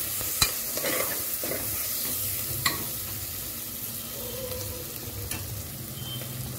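Garlic paste frying in a pan for a desi mutton curry, a continuous close sizzle with a few brief spoon clicks and scrapes as it is stirred, no voices.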